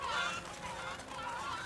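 Chickens cluck in the medieval adventure video game Medievil, a short burst of soft fowl calls over a hazy game backdrop.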